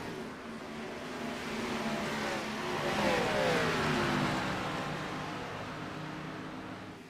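A race car engine in a Saturday night short-track race in Michigan, swelling and fading as the number 28 car drives into the pits, a steady droning roar with shifting pitch that peaks mid-way, with no voices.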